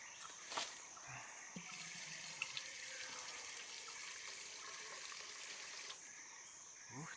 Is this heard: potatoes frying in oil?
no